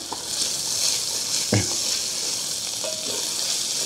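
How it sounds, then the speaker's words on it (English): Rice and garlic toasting in a hot pan give a steady broadband sizzle throughout, with a brief louder clatter of stirring midway and no talk. "we're gonna toast that rice and that garlic"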